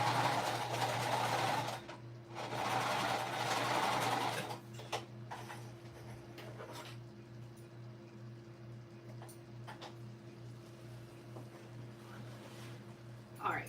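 Sewing machine sewing the sides of an Addy shoulder bag exterior in two loud bursts of rapid stitching, followed by quieter handling clicks over a steady electrical hum.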